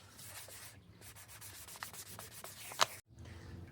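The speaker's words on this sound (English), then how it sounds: "I think I'm going to sand it and then go with it, burn it." A wooden bushcraft axe handle is sanded by hand in steady, rasping strokes that sound close and fairly loud, with one sharper scrape near the end before the rubbing stops abruptly.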